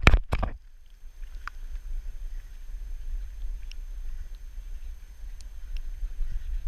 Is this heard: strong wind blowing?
yes